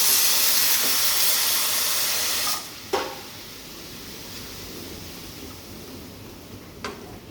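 Avarai kootu with small onions and garlic simmering in a pot, a steady steamy hiss that is loud at first, then drops to a quieter bubbling hiss with a few faint clinks.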